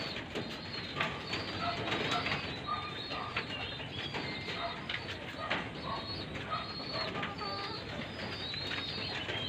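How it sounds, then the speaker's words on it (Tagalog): Racing pigeons in a loft coo softly and steadily, mixed with chirps and light fluttering against a constant background hum, with no clear speech. "magpapainom muna ako ng mga ibon."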